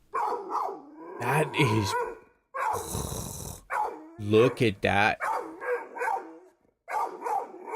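A dog barks and growls excitedly in brief bursts between people talking close by, outdoors where a panther lynx is suspected nearby.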